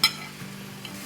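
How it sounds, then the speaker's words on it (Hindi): Spices frying in a pan for curry khaowsuey, with a quiet sizzle and a few light stirring knocks, beginning with a brief clatter. "इसको हिलाते हैं।"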